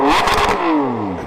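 A Ferrari 599 GTB V12 engine revs loudly and close by, with a rising roar that then falls away into a descending whine as the revs drop.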